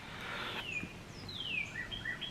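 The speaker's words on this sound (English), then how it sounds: "Listen to those birds. They're so pretty" Several songbirds chirp outdoors in a quiet, peaceful yard, with clear rising and falling whistled calls at moderate distance and no voices.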